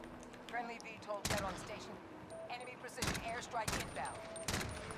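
Several loud bursts of golden Desert Eagle gunfire in a video game ring out in quick succession, with a voice talking over and between the shots.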